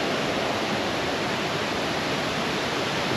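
Steady, full roar of water pouring down a shallow, less-steep waterfall built as a fish pass on a river in Devon, a constant broadband rush heard up close with no other sounds.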